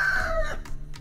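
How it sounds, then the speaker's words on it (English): A rooster crowing, one short rising-then-falling call heard up close and fairly clear, lasting under a second. "Then the rooster crowed."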